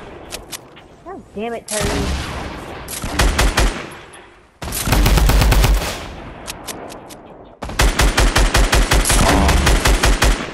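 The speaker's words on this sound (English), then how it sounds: "Oh, people are shooting from north." Bursts of rapid automatic gunfire in a battle-royale shooter, loud and close, coming in dense rattling volleys separated by short pauses, with a player's voice heard briefly between shots.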